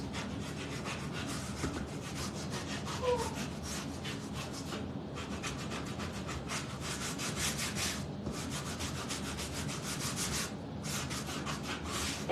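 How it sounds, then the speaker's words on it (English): A 3M sander works along the top edge and around the corners of a homemade wooden tic-tac-toe board, producing a steady, close, rasping scrub in continuous strokes with a few brief pauses. "we're going to take that 3M sander and we're just going to go right along the top"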